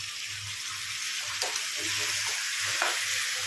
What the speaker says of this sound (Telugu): ఇప్పుడైతే చికెన్ వేస్తున్నానండి.